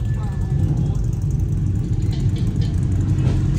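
A car engine revs loud and steady during a burnout, a continuous low rumble filling the whole stretch with no clear pauses.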